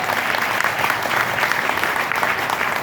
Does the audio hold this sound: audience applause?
yes